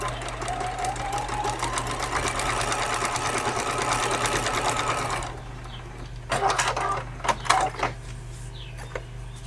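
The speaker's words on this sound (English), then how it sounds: "And we are sewing this very first seam." A sewing machine stitches the first seam of a quilt at short stitch length, a fast, even whirring hum for about five seconds, then stops, followed by a few soft handling knocks and clicks.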